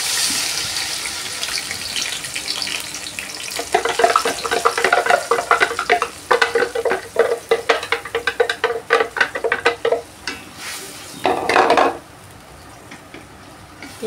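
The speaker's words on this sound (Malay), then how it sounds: "Kita tumis sampai naik bau dan pecah minyak ya." A blended spice paste for a mamak-style squid and onion dish is tipped into hot oil and stirred, giving a loud, crackling sizzle with rhythmic scraping and clattering from the spatula against the pan.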